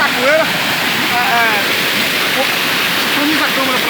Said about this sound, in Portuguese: eu tô aqui já chegando aqui na cachoeira